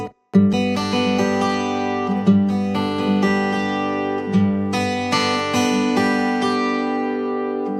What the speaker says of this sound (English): so basically it stays with the same right hand pattern formula